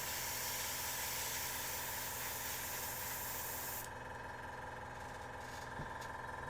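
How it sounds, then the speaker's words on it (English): Steady compressed-air hiss from a Meeden airbrush with a 0.25mm nozzle, blowing air to dry a paint layer; continuous and fairly quiet, easing off about halfway through, with no talking. "having the ability to kind of dry your layer as you're going just by pushing down on that air"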